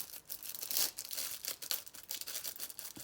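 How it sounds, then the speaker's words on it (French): Tiny scissors snipping through thin paper up close, a quick run of crisp, papery cuts and rustles that is soft and dry, with no voices. "J'ai attrapé mes tout petits ciseaux quand même pour couper ça."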